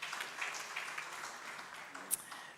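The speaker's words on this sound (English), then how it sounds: "Let's clap for him." Audience applause at a regional health assembly, a soft continuous patter of clapping from a crowd heard fairly faint and distant, with no talking.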